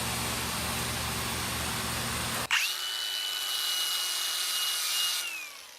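A 2000W fiber laser cleaning machine strips rust from auto parts: a steady broadband hiss cuts off abruptly into a sustained, piercing high whine with a low hum beneath, holding evenly before fading near the end.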